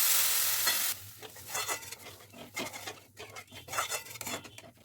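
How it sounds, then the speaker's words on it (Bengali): Spice masala for a paneer curry fries in hot oil in a pan, opening with a loud close sizzle and then giving way to repeated stirring scrapes over a softer crackle. "তাও আমি একটু নাড়াচাড়া করবো যাতে ভালোভাবে মশলাটা আরও ভালোভাবে কষানো হয়।"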